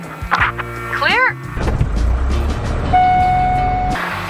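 A Diamond DA-40 aircraft engine runs at about 1000 RPM at Locarno, Switzerland, giving a steady close low rumble with a thin sustained whine, after a few brief vocal sounds at the start.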